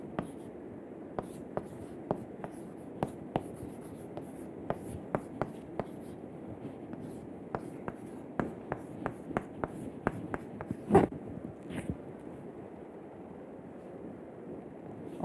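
Chalk or marker strokes tapping and scraping on a board during a materials science lecture on cellular solidification of single-phase alloys, coming as sharp, irregular clicks and short scrapes over quiet room hiss, with no talk over them.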